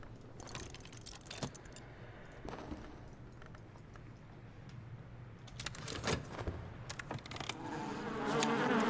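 Insects buzz steadily through a still room, a soft drone with a few brief louder passes, some chattering close by, and the hum rising and thickening toward the end.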